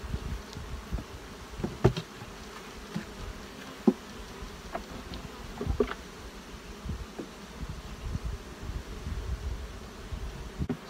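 Honey bees buzz in a steady drone around a full brood frame pulled from a hive, with a few sharper bursts of buzzing and light rustling rising above the constant hum.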